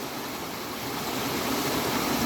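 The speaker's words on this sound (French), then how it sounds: "vous voyez que la cascade n'est pas si grande que ça" A small waterfall pours steadily on a geocaching outing, a broad, even rushing roar that holds at close range throughout, with no voices.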